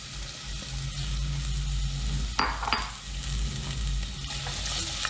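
Chopped onion going into hot oil in a pan while a curried lentil, tomato and coconut soup is made, giving a steady close sizzle with a brief scrape and clatter of stirring partway through.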